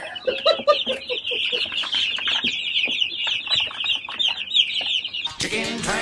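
Chickens on a poultry farm cluck and squawk continuously up close, a dense busy flock with one sharper, louder burst of cackling at the end.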